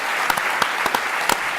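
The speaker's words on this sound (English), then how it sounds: "round of applause for the best demo session we think ever" A conference audience claps through a round of applause at the closing keynote of the UIST 2023 event, dense and steady for under two seconds with a few sharper claps standing out.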